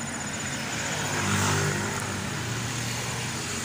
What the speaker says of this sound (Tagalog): Daming sasakyan, maingay.